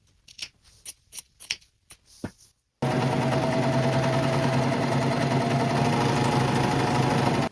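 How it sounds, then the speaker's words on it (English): A serger overlocks a fabric edge on a homemade skort, running in a loud, steady, fast mechanical whir for several seconds. A few short bursts of stitching or clicks come first. "I can go over it one more time with my serger"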